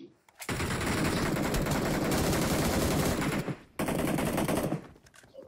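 Automatic gunfire from the mobile battle royale game BGMI fills the air in a long, loud, rapid continuous burst, breaks off briefly, then resumes in a second sustained burst.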